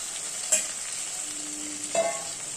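Soft, steady sizzle of spinach frying in a pan, with a couple of sharp scraping stirs of a spoon against the pan, no voices.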